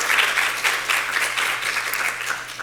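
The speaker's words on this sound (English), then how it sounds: "So let's give them a round of applause for doing that." An audience at an equity in innovation symposium breaks into sustained, loud applause, dense clapping filling the room evenly throughout.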